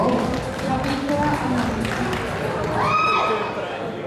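Audience applause for a woman at a live performance, scattered clapping and crowd noise with someone talking over it throughout.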